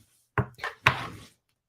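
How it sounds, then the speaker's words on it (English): Desk drawers opened and closed, giving three quick close wooden slides and knocks in a row with silence around them. "I'm just grabbing stuff out of my drawers"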